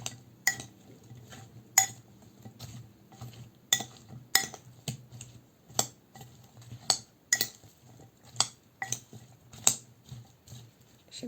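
A utensil scrapes and clinks against a pan while food is stirred with olive oil, in irregular sharp taps about once a second.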